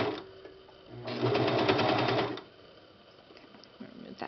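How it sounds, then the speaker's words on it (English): A serger stitches fabric for a fitted baby diaper in one loud, rapid burst of about a second and a half, with quieter handling sounds before and after. "you're pushing the fabric into the way of the serger"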